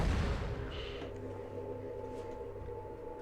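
A naval gun fires in the ArmA 3 military video game: one heavy, low boom at the start rolls off into a long, fading rumble, quiet overall, with no talking.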